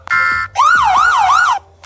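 Siren sound effect playing in a video editor, a loud electronic tone that steps up then swoops in three rapid wailing cycles, clear and close with no talk.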